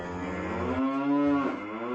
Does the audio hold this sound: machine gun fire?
no